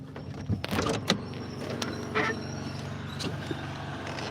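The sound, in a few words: delivery truck door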